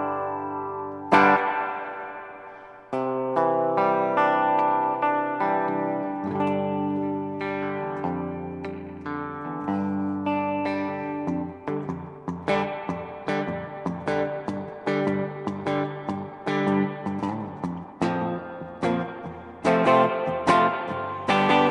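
An electric guitar plays chords and single notes through an Electro-Harmonix Holy Grail reverb pedal set wetter, each strum trailing into a wash of lingering echo; no voices.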